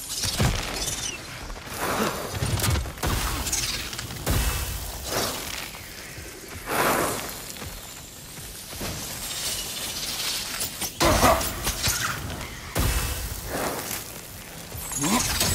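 Shattering barrier in God of War Ragnarok, with repeated bursts of breaking, glassy crashes and whooshes over a busy game soundscape, with footsteps and faint voices in between.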